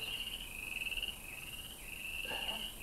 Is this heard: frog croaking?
yes